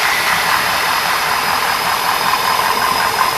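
A 1961 Oldsmobile 394 V8 with a Camcraft cam runs at a steady, loud idle, its even drone and faint knock continuing without a break.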